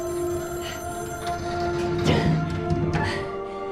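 An old telephone rings in a scene from the Loki series, a steady bell-like trill lasting throughout at moderate volume, with a brief clatter partway through.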